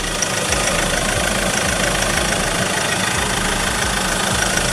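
A 2019 Ford Everest's 2.2-liter engine with a six-speed gearbox idles steadily and close up, a continuous low rumble with a faint knocking pulse and no talk over it.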